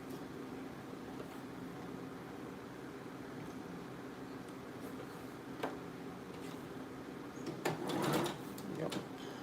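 A sewing machine runs steadily, stitching the side seam of a shirt being converted into a blouse, a soft continuous whir close by with a few small clicks and handling noises near the end.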